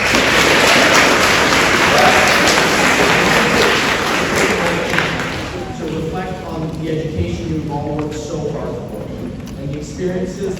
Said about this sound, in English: So let's give the parents a round of applause.